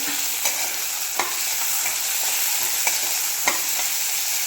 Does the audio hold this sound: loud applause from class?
no